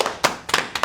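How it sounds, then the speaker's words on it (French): One person clapping hands, four sharp, close claps in quick uneven succession. "j'applaudis"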